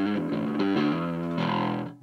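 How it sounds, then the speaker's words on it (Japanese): Bass guitar played through a BB preamp with the gain set low, giving a warm, gritty overdrive; a short run of sustained, harmonically rich notes that changes pitch a few times and rings steadily for about two seconds before cutting off. "いい感じの歪みが得られて"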